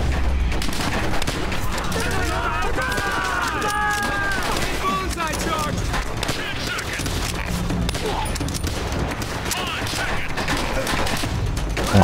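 Dense, continuous gunfire and explosions from the World War II shooter game World at War, with heavy rifle and machine-gun bursts overlapping throughout alongside game voices and background speech.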